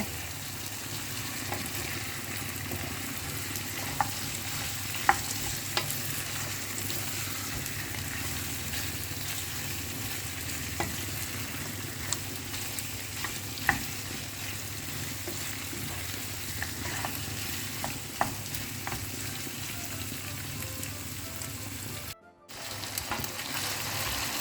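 Chicken pieces for a ghee roast frying over a high flame, a steady close sizzle that runs throughout, broken by occasional scraping stirs of a spatula in the pan, with a brief dropout near the end.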